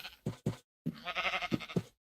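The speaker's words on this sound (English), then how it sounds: "Oh, Mr. Sheep. Won't you join me?" Sheep bleating in the Minecraft video game: two quick short bleats followed by a longer wavering bleat with a couple of knock-like accents, close and clear, with no talking.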